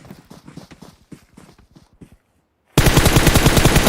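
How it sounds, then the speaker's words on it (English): Rapid automatic gunfire in a PUBG Mobile scrim match, a sharp burst of shots starting after a quieter stretch of rhythmic footsteps and clatter, loud and dense to the end. "SNAKESquad gets headshot once there from Sam, but unable to get any knocks"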